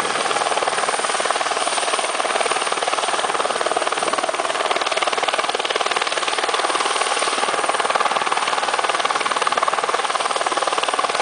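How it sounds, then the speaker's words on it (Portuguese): A rescue helicopter hovers overhead during a firefighter rescue, giving a loud constant rotor roar and whine that holds steady for the whole stretch, with no voices heard. "Olha o helicóptero, cara."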